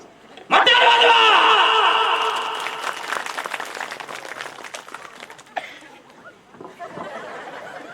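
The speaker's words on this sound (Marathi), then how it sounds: "जोरदार टाळ्या वाजव साऊंड सिस्टीम साठी" An audience at a live Marathi bharud comedy performance breaks into a loud burst of clapping that fades into scattered claps, with chatter and laughter in the crowd.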